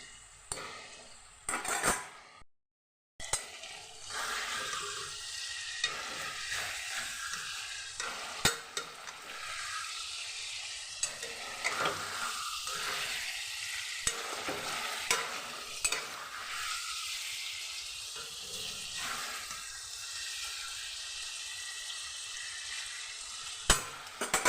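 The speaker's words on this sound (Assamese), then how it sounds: "এই পনীৰটো অলপমান নিমখ লগাই ভাজিব লৈছোঁ।" Paneer frying with a little salt in a pan gives a steady, close sizzle that runs the whole time, broken by brief stirring scrapes and clinks of utensils against the pan, with no one talking.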